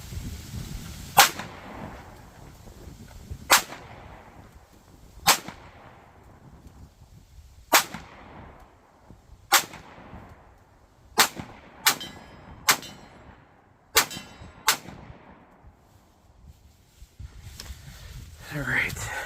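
A Glock 43X pistol is fired at a steel gong 50 yards downrange on an outdoor range: about eleven sharp, loud reports, spaced apart at first and then coming in quicker pairs, each followed by a brief fading ring.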